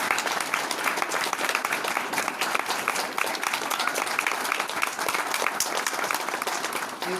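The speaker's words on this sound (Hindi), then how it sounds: "मैं सुहास, मिस्टर और मिसेस सुहास के लिए जोरदार तालियां बजाऊंगा।" An audience at a teaching event in Nashik claps loudly and continuously for a couple being honored, many hands beating in a steady dense roar that holds from start to finish.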